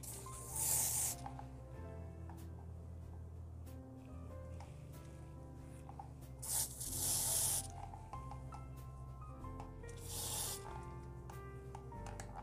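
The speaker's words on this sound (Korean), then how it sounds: "지저분한 머리는 이렇게 스프레이 뿌려서" Hairspray hisses onto an updo in short bursts, three distinct sprays spaced a few seconds apart, close and fairly loud over a steady background of soft music.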